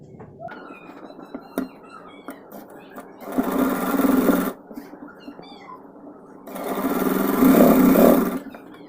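Sewing machine stitching lined fabric down to the hem of a crop top, running in two distinct bursts of steady mechanical whirring, with quieter handling and soft voice in between.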